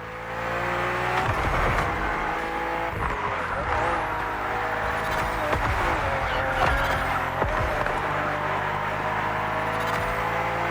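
A BMW CSL in The Crew Motorfest drives at speed, its engine roaring steadily and loud throughout with gear changes and brief tire noise.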